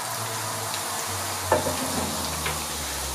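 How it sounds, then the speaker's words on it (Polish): Diced onion sizzles steadily in a hot pan, a constant crackling hiss with a couple of brief clinks, no talking. "Cebulka będzie się smażyć."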